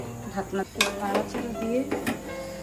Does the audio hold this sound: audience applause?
no